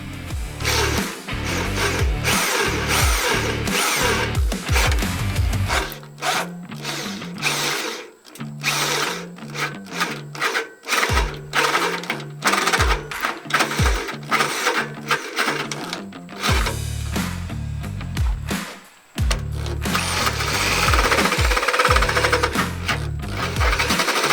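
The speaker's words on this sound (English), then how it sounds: "To drill the frame, I used a 1 1/8 inch carbide tip arbor hole saw." A loud power drill with a 1 1/8 inch carbide-tipped arbor hole saw grinds steadily into the metal frame of a Norwood Frontier OS-27 sawmill, with a few brief pauses before the whining, rattling cutting resumes.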